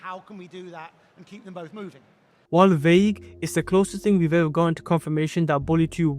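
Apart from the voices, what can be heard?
No everyday noise stands out behind the speech.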